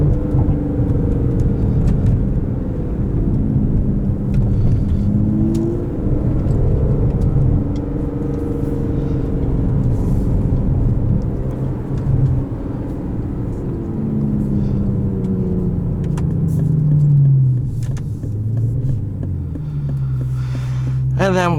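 Engine of a 2017 Aston Martin DB11 V12 building steadily under acceleration, a loud continuous low rumble heard from inside the car, rising in pitch toward the end as revs climb.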